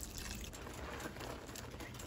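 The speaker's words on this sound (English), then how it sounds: "So I'm gonna go ahead and add my carnation milk." Canned Carnation milk pours into a boiling pot while Guyanese coconut sugar cakes are being made, a steady, soft, continuous liquid rush with no talk over it.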